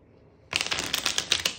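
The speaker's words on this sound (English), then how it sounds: "They're easy to shuffle." Hand and Foot rummy playing cards are riffle-shuffled after a short quiet moment, a sudden burst of rapid crisp flutters and snaps, close and fairly loud, with no talking over it.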